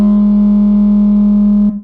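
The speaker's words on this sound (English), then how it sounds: "we're going to direct out a sub just to get some cool bass tones under there" Distorted synthesizer sub bass, one loud, sustained buzzing low tone rich in harmonics that holds steady and then cuts off abruptly.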